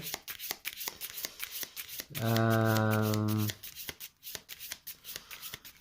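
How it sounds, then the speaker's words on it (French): A deck of cards for The 7th Continent board game is riffle-shuffled once, a loud close burst of rapid fluttering clicks lasting just over a second, with quieter handling and table taps before and after. "Je vais mélanger le deck."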